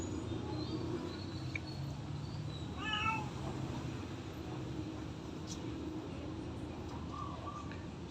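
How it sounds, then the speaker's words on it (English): Newborn kittens give a few thin, high meows around the middle, faint and brief over a steady low background hum with soft insect-like chirps. "We have brand new set of kittens."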